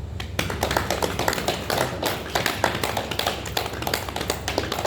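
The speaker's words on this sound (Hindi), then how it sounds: "शरणदास साधु के लिए ताली बजाएंगे ऐसे करके।" A group claps together for Sharandas sadhu, producing a continuous, fairly loud run of sharp, closely spaced hand claps with a loose rhythm and no talking.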